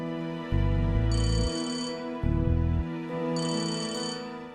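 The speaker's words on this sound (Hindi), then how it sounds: "माँ का फोन है।" Mobile phone ringtone playing at home, a looping electronic melody with repeating tones in three bursts, close and clear, no talking.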